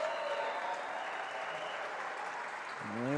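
Arena crowd at an NAIA women's basketball game between Dakota Wesleyan and St. Francis clapping for the St. Francis seniors leaving the court, a sustained wash of applause that swells slightly at the end.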